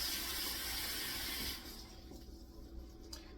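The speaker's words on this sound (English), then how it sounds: "Let me see, I definitely need more water in here." Water runs steadily from a kitchen tap into a pot during pumpkin soup cooking, a loud, close splashing rush that cuts off and drops to quieter room sound partway through.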